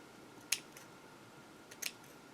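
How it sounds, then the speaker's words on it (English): Two crisp snips of scissors cutting a piece off trimmed sequined craft material, close and quiet, about a second apart over faint background hiss. "I will cut a piece off of this one since it's already trimmed"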